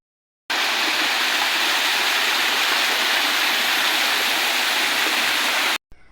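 Water rushes steadily down the Amsoi stream beside a tea estate in Assam, forming a dense, continuous, fairly loud torrent with no pauses until it stops abruptly near the end.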